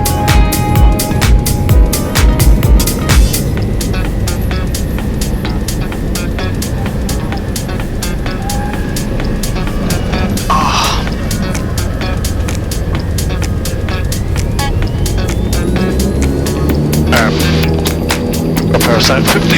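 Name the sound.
Cessna 172S airplane departing in gusty wind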